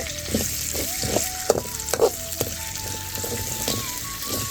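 Ground paste sizzling and frying in hot oil with mustard seeds and cumin in a traditional home kitchen, a steady crackle broken by brief louder spatters and stirring scrapes, close up with no speech.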